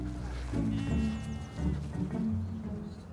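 Ewes bleating inside a lambing shed on an Orkney farm, several overlapping calls at close range with pauses between bursts, backed by low shed rumble.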